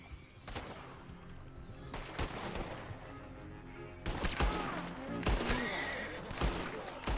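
Gunfire in a western video game: several sharp shots crack out in irregular bursts at moderate distance, with a horse faintly audible among them.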